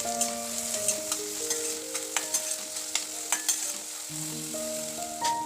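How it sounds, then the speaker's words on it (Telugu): Sliced onions fry in hot oil in a kadai with a steady close sizzle, broken by repeated sharp scrapes and taps of a spoon stirring against the pan. "2 ఉల్లిపాయలు ఇలా ముక్కల కింద కోసుకొని వేయించుకోవాలి"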